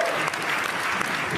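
A studio audience at a German talk show bursts into dense, loud applause, steady sustained clapping filling the whole moment.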